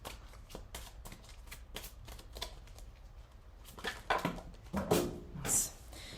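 Tarot cards being shuffled by hand in quick riffling bursts, crisp, close snaps repeating in a loose rhythm, growing a little louder and denser toward the end.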